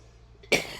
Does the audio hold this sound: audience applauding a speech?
no